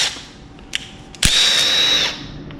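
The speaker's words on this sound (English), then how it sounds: "I'm gonna run these all through a die and get them cleaned up" Rusty, slimy bolts from a 1966 Plymouth Belvedere being run through a threading die with a power drill: a brief whir, then a steady loud drilling whine lasting under a second, close up.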